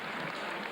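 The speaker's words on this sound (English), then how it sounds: "Give John a big round of applause." Boxing crowd applauding fighter John Purcell after his bout against Parry Nikolaou, a dense, steady wash of clapping heard at a moderate distance with no speech over it.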